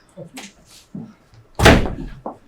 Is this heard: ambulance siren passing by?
no